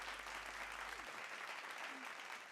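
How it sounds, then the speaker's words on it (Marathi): Applause for a dance group at a traditional Mangalagaur women's performance event, a steady wash of clapping heard faint and distant throughout, with a low hum at the start. "एकदा जोरदार टाळ्या या ग्रुपसाठी."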